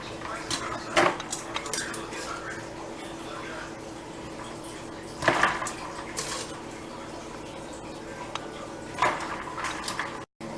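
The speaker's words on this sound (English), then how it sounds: "Now we're just going to take these out and submerge them into the ice bath to stop the cooking." Cooked vegetables, with potatoes mentioned, lifted out of a pot and dropped into an ice bath in a kitchen, giving a few clattering dish and utensil knocks and light water sloshes under a steady background. No one speaks.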